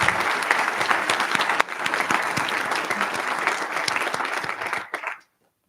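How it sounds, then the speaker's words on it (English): An audience at a university presidential investiture applauds the student performers, sustained clapping from a full hall, loud and steady for about five seconds before cutting off abruptly. "A round of applause for our talented students."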